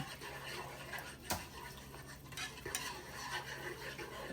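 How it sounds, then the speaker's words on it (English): Utensil stirring a stew beef gravy mixture in a pot to work out the lumps, a steady soft scraping and swishing with a few sharper clinks, close and fairly quiet, no talking. "Stir it a little bit with this. Make sure there's no lumps in it."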